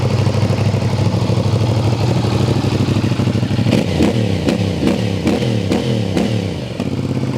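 A 2023 CFMOTO 450SR motorcycle engine runs at a loud, steady idle, then is blipped in a series of sharp rhythmic revs with popping from the exhaust, close to the bike.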